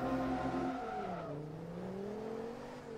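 A turbocharged Ford Focus ST with a modified rear bumper in Forza Motorsport 2. The engine hums steadily, then its pitch dips and climbs again as it revs, loud and close with no talk.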